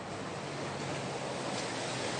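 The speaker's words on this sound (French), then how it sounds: "j'aime bien qu'il y ait 10 vagues derrière moi." Ocean waves surging onto the shore, a continuous broad wash of surf with wind, steady and fairly loud throughout.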